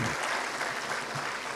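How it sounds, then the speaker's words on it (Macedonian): An audience at a school evening academy applauds, a dense, even wash of many hands clapping together at moderate volume. "Ке ве замолам уште еднаш за еден голем аплауз за овие две компании"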